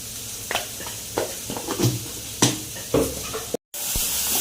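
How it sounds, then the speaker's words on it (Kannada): Onions frying with salt in a pan, a steady low sizzle under a run of scattered stirring clicks and scrapes, with one brief dropout near the end. "ಸ್ವಲ್ಪ ನಾನು ಸಾಲ್ಟ್ ಹಾಕ್ತೇನೆ, ಬೇಗ ಆನಿಯನ್ ಫ್ರೈ ಆಗ್ತದೆ"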